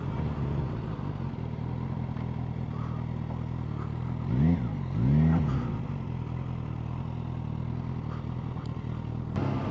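A Suzuki GSX-S1000 motorcycle engine runs with a steady low rumble, broken by two quick throttle blips mid-way that rise and fall, then settles back to its even idle.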